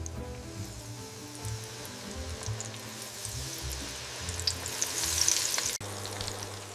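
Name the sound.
chicken pieces deep frying in oil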